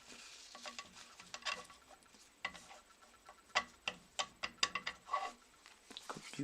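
A deck of tarot cards being cut and shuffled, a quiet run of soft papery taps and riffling clicks that grow into sharper, closer snaps toward the end, with no talking.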